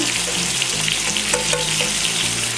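Canned fava beans cooking in a pan give off a steady, loud frying sizzle with light scraping and stirring clatter throughout.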